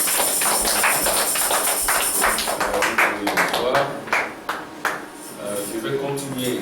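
Church congregation applauding in acclamation during a service, a dense burst of clapping hands that thins into scattered, louder individual claps and fades out, with a voice speaking near the end.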